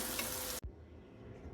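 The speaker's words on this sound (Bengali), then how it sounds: "এগ চাও করার জন্য আমি সবজিগুলোকে ভেজে নিচ্ছি" Vegetables fry for egg chow with a loud, dense sizzle that cuts off abruptly partway through, leaving a faint low hiss.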